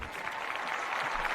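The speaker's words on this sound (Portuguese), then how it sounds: "vamos receber ele então com aquela calorosa salva de palmas" An audience at a radio station interview claps warmly to welcome guest Neto Zago, a dense, steady patter of hands that runs throughout at moderate loudness.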